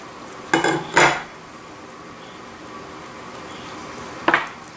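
A knife works along the backbone of a whole duck on a kitchen board, giving two close crunching cuts a moment apart, then a quiet stretch and one more short cut.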